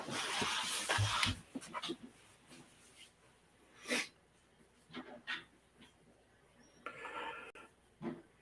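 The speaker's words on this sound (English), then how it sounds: "Crazy dog." A lively puppy snuffles and snorts close by in quick, irregular bursts, with short breathy sniffs and huffs separated by quieter pauses.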